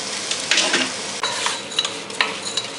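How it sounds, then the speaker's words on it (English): Bengali bhuna khichuri fried over medium heat and stirred in a pan, giving a loud, close sizzle broken by repeated scraping strokes of the spoon. "over medium heat, fry it for at least 5 to 7 minutes. Give it a good mix."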